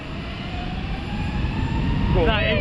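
An Airbus A380 jet taking off at the Farnborough Air Show makes a loud, steady engine roar with a rising whine, heard from the ground, and a voice cuts in near the end.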